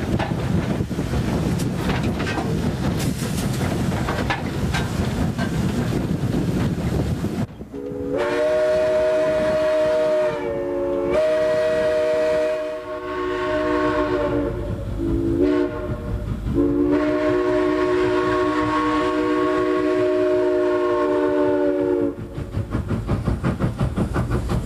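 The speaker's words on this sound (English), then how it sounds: "a steam locomotive really runs because the fire boils water to make steam" Steam locomotive at a railway museum: loud chuffing and rumbling with wind buffeting, then long, sustained whistle blasts repeated several times, with running noise underneath.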